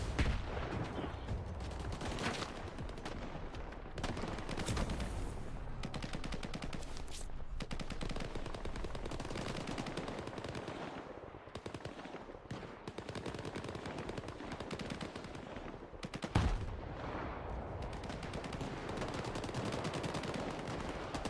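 Gunfights in the video game STALKER 2 bring dense, continuous automatic fire and rapid shots that rattle on without pause, with one heavier blast near the end and no speech.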